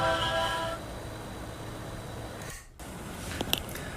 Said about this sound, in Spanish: Así es como suena el ventilador.